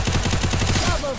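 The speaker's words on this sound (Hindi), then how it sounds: "हमारा दोस्त अच्छा खासा गन चला रहा है" Rapid automatic gunfire in the shooter game Free Fire, a dense string of evenly spaced shots lasting about a second, loud and close, with a faint tonal effect trailing at the end.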